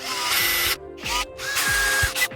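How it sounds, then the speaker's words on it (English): A power drill whirs in loud bursts, stopping and restarting several times as it bites through thin plastic lids, close up with no voices. "Let's drill through these."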